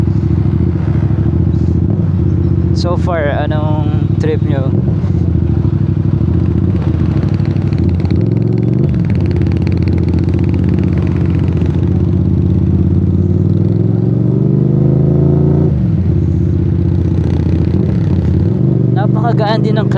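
A CFMOTO CLC 450 cruiser motorcycle hums steadily close by as it is ridden, its engine note rising and falling with throttle changes while a rider talks over it.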